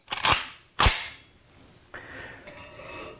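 A Kalashnikov rifle's trigger is dry-fired during trigger regulating, giving two sharp metallic snaps in quick succession, followed by quieter rubbing and mechanical handling noises close by.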